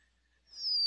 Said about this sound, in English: black-throated blue warbler. This is a bird that kind of sounds like it's saying beer, beer, beer, please.